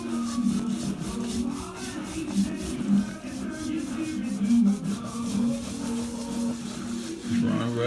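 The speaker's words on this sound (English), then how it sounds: "So we're going to rub that in all together." Hands rubbing seasoning into honey-glazed spare ribs, a steady soft squelching and rubbing sound close by that continues throughout.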